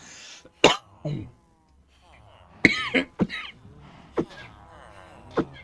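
A person coughs several times in sharp, close bursts, with throat clearing and brief quiet gaps, some speech-like sounds between coughs.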